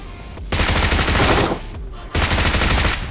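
Rapid automatic gunfire in BGMI (PUBG Mobile) downs an enemy player, arriving as two loud close bursts of fast repeated shots with a brief pause between them.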